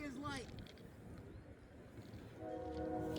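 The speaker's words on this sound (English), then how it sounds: "train coming this way" A train approaches on railroad tracks at night, with a low steady rumble and a tonal horn rising toward the end, heard from a distance without talking.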